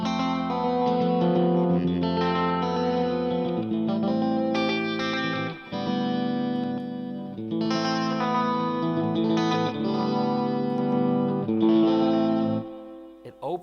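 An electric guitar plays sustained chords through a tape echo effect, with rich repeating tails and a wide ambient wash. The sound is loud and close with brief dips between phrases, and no one speaks.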